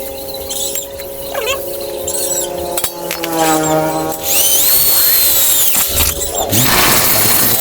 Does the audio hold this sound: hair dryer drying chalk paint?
no